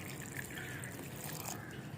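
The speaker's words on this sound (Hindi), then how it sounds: "ये पानी डाल दिया हमने" Water trickles and splashes as it is poured into a container of fruit and vegetable peels, a faint continuous liquid pour heard alone.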